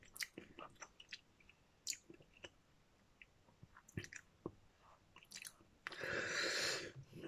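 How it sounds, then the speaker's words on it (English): Someone chews a pod up close, making sporadic wet crunches and squishy bites with quiet pauses between them. A breathy rush follows at the end. "It's a nice tasting pod when you're chewing it."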